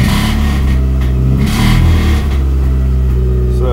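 Turbocharged Suzuki Swift GTi engine revving under light throttle, a loud, close mid-range drone that swells in a couple of brief rises and falls, running steadily with no talk.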